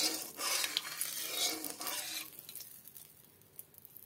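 Oil heating in a kadai hisses and crackles loudly at first, with scraping and stirring noises, then thins to a quieter scattered sizzle with a few sharp pops.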